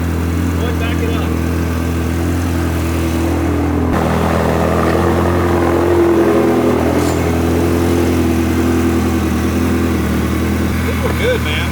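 A Ferrari 360 engine idles steadily while reversing, a loud constant low rumble close by with a slight rise in revs midway, and voices speaking over it.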